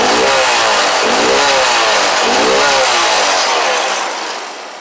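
Honda Grom clone motorcycle engine revved up close in three quick rising bursts, buzzy and loud, then dropping back toward idle as the sound trails off.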